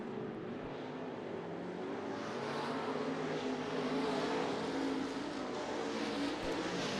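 Race cars run at Bakersfield Speedway during heat racing at the Budweiser Nationals, a steady, dense engine roar carrying across the track from a distance, with no talk heard over it.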